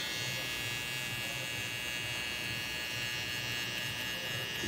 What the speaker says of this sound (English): to our trimmer.